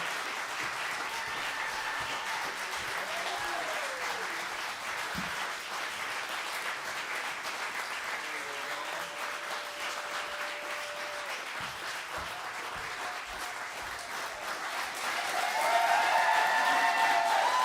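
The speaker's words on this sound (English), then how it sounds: "I like the clapping." Steady, sustained audience applause at a San Diego Music Hall of Fame induction ceremony, a dense wash of clapping from a large crowd that swells louder toward the end, with faint crowd noise beneath.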